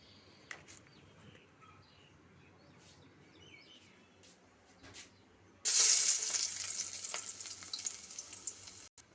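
Garlic drops into hot oil in a wok and bursts into a loud, close sizzle that slowly settles, following a quiet stretch with faint bird chirps in the background.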